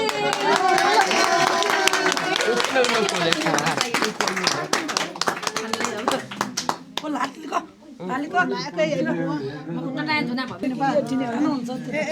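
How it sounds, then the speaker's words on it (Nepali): A small group of people claps for an elderly woman's 101st birthday at a care centre, with dense, lively applause mixed with cheerful chatter and a voice talking throughout. "ल फेरि ताली।"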